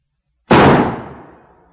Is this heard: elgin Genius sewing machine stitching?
no